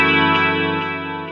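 A single chord on a 50's reissue Strat or Tele electric guitar rings out, shimmering with a wavering chorus effect and evenly compressed sustain, slowly fading.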